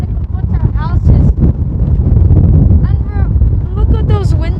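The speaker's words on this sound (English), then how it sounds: "It's so windy." Steady, heavy wind rumble buffets the microphone throughout while people talk over it.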